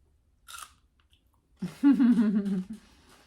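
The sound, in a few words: crunching while chewing food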